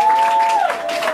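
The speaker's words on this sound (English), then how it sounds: "I'll give him another round of applause now." Audience applauding a performer at a live spoken-word and music event, a short burst of clapping under a held tone that fades out, with voices briefly heard.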